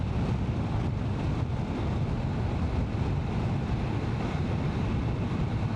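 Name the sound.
wind during motorbike ride through Glencoe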